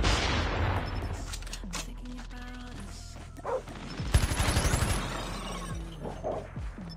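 Peacekeeper MK2 gunfire in Call of Duty Mobile: bursts of sharp, rapid shots crack close by, broken by pauses, with a sustained loud stretch of fire midway and scattered battle noise between.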